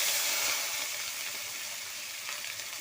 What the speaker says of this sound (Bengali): কুচনো টমেটোগুলো দিয়ে দিচ্ছি এবার তেলের মধ্যে